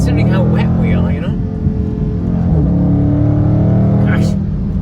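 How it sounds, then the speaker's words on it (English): A Dodge Charger Scat Pack driven hard through a corner on a wet road in the rain, its engine a loud, steady low rumble close by, rising and falling slightly as the car works through the bend, with someone talking over it. "Let's see how it does through this corner here in the rain."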